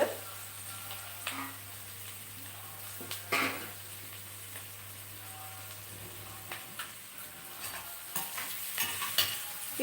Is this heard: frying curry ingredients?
yes